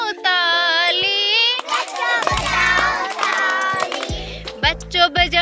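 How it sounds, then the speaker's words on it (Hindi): A group of children claps hands in a sing-along rhyme while their voices chant and shout loudly in tune. Sharp, uneven claps cluster toward the end, close by and mixed with the singing. "बच्चों बजाओ ताली"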